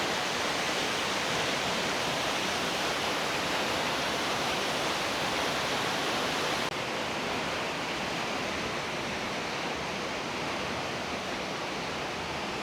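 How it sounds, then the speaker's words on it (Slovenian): Waterfall in the Voje valley, a steady roaring rush of falling water, loud and close, unbroken throughout with no voices. "Slap v Vojah"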